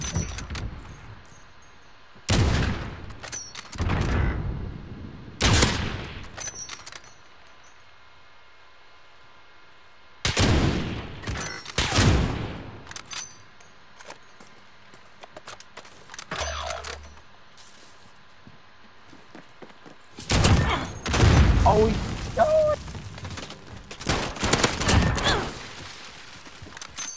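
Gunfire in the online shooter game Snipe Wars, heard as several sharp bursts of shots separated by quieter gaps, with a dense cluster of loud blasts near the end.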